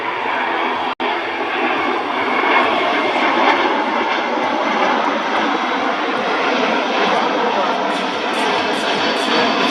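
Engines of a C-17 military transport aircraft roar loud and close at an airshow, a broad sustained rushing thunder that holds steady throughout with only a momentary dropout near the start.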